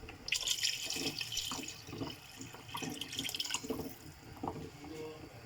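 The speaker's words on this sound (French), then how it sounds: "Je vais ajouter de l'eau. J'ajoute encore un peu d'eau." Water added to a pot of cooked onions for a rfissa sauce: a splashing, running pour close by that keeps going across the clip, with a few drips and a thin background murmur.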